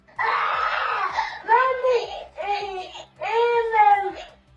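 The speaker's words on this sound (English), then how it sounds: "He repeatedly calls for his mother, but his cries are more akin to screams of distress" A young boy cries and screams in distress, calling for his mother in a series of wailing, rising-and-falling bursts, loud and close, with short breaks between cries.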